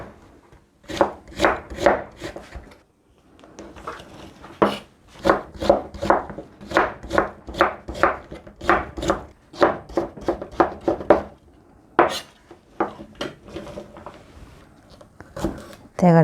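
A kitchen knife chopping vegetables into thin strips on a cutting board for a Korean side dish, with quick, loud, evenly spaced taps in bursts and brief pauses between runs.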